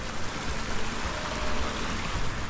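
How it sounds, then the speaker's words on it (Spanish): A river running downhill through mountain country, its water rushing in a steady, full, close wash with no voices over it. "Ay, qué bonito baja el agua."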